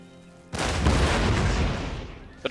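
A volley of musket or cannon fire booms out in a Napoleonic-era Empire Total War battle, a sudden loud roar that sustains and slowly fades over about two seconds.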